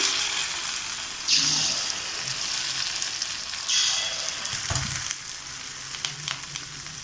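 Rava paniyaram batter sizzles and crackles in hot oil in a paniyaram pan, a steady close frying hiss with occasional louder spurts as more batter goes in.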